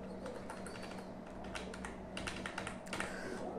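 Numbers are tapped into an Excel spreadsheet on a computer keyboard: quiet, irregular clusters of keystrokes close by, with a few sharper clicks near the end.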